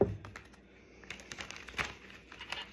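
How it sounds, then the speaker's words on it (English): A deck of playing cards riffled and shuffled in quick bursts of crisp flutters and taps, close up and fairly quiet, with no talking. "I can get these cards shuffled today"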